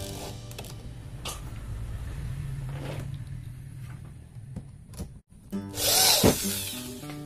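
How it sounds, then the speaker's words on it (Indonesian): A power drill drives screws into a cabinet door lock, a low whirring run in the background followed by a louder, closer burst near the end, amid small clicks and handling knocks. "Sekarang kita pasang sekrupnya."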